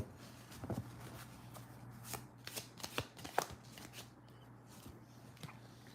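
Tarot cards shuffled during a reading, a quiet, soft run of papery riffles and light taps over a steady low hum, with a few sharper flicks in the middle.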